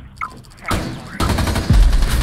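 Rapid bursts of gunfire in the tactical shooter game Rainbow Six Siege, loud and close, with the shots stacking into a heavy barrage near the end.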